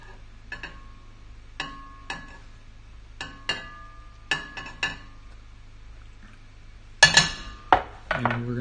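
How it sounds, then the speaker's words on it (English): Stirring cheese into one-pot mac and cheese, a spoon clinking and tapping against a metal pot in a quiet kitchen, about a dozen sharp ringing knocks at an irregular pace that grow louder and scrape near the end. "And we're going to stir that up."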